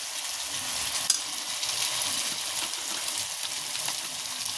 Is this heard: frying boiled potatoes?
yes